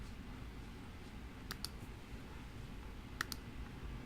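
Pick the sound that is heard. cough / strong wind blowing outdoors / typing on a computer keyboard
typing on a computer keyboard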